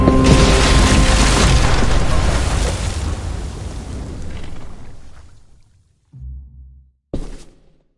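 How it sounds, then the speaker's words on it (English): A bomb in The Walking Dead video game erupts in a loud, close roar that rumbles and slowly fades over several seconds, followed by two short, low thuds. "Shit, the bomb!"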